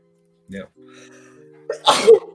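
A single sharp sneeze bursts out near the end, after a quick voice sound and a faint tone; close and loud.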